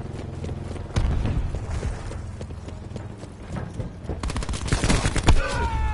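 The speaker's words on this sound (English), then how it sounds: "War machine fire." War Machine grenade launcher fire in the multiplayer shooter Black Ops 4: heavy booming blasts, one near the start and another cluster later, over continuous game noise with a dense crackle toward the end.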